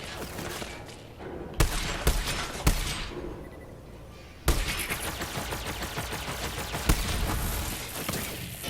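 Sniper rifle and other gunfire in the shooter game Borderlands 3, with several sharp loud cracks at irregular intervals over a dense, busy game soundscape of music and effects.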